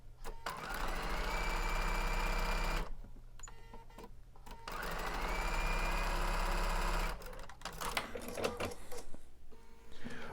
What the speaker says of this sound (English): but sew it on the opposite side.